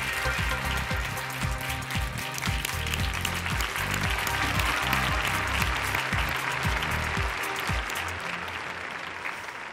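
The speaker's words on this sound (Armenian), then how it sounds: "եկեք բարձր ծափարություններով նրանց այստեղ հրավիրենք" Audience applause welcoming a team onto a stage at a televised business pitch competition, dense sustained clapping from a large crowd, loud and even throughout with no talk over it.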